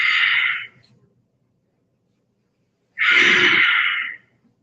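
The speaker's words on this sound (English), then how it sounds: "Breathing in." Two audible breaths during a morning breathing exercise: a short airy exhale at the start, then after a pause of silence a longer, fuller inhale, close and clear with no talking.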